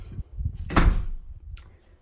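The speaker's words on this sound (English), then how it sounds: "I'll just close the door here." A household door pushed shut in a room lit by LED pot lights, giving one mid-loud closing thud with a brief rattle, then a small latch click a moment later, with no talk.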